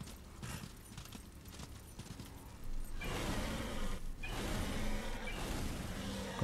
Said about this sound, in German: Benutze ich halt jetzt das Pferd.